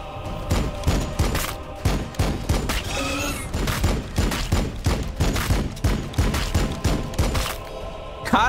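Rapid bursts of Land Speeder gunfire in the video game Warhammer 40k Battlesector crackle continuously, dense repeated shots with thumping impacts, loud and close.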